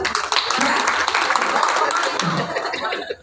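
Audience at a 19th anniversary event for Diamond Interest at Polonia Hotel in Sumut applauding in a hotel function room, dense clapping with some chuckles and voices mixed in before it fades at the end.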